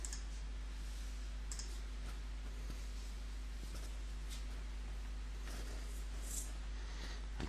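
Light taps and soft clicks of a password being entered on an Android phone's touchscreen keyboard, faint and irregular over a steady low hum, with no talking.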